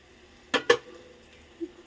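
Metal cooking pots being handled in a home kitchen: two sharp clanks in quick succession, then a fainter knock a second later, fairly close against a quiet background.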